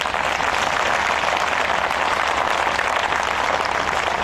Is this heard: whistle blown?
no